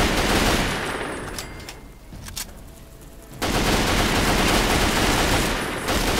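Machine gun fire in the video game Fallout 3 rattles in loud, close, sustained bursts, breaking off briefly into a quieter gap before resuming at full intensity.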